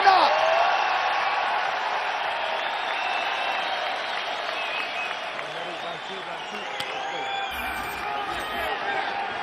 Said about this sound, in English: And this crowd is going sick